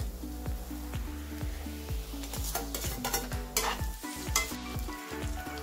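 Tomato sautéing in oil with onion for a village-style khar vangi, steady close frying sizzle broken by repeated metallic spoon scrapes and taps against the pan, no speech.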